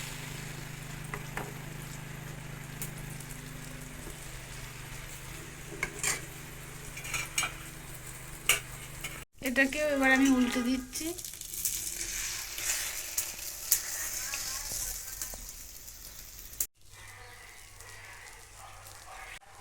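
Egg fritters for a masala omelette frying in oil, a quiet sizzle with scraping and clinks of a spatula in the pan, and a brief louder burst midway while a person talks.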